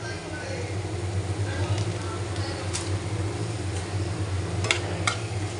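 Spices with cumin and coriander powder fry in a pan with a low, continuous sizzle, with occasional clicks of a spoon stirring, while a person talks throughout.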